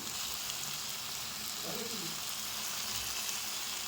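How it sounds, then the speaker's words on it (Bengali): Meat being braised and fried in a pan, a dense, steady sizzling hiss running throughout, close and even, with no talk. "মাংসই কষাচ্ছি।"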